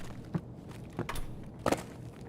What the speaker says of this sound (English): I'm starting to hear footsteps on the stairs